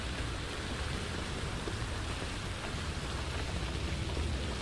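Steady, even rain in the video game Death Stranding pours down with a constant hiss and no pauses, at a moderate level.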